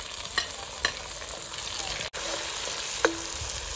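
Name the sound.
green chili frying with onion in pan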